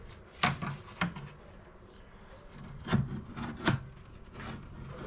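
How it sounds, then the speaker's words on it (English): Old rubber trims are cut off a Toyota Land Cruiser 80 Series, making scattered close scraping, rasping strokes with a few sharper knocks at irregular intervals, fairly quiet and without talk. "These rubber trims have obviously been on there since day one. I'm just cutting them off."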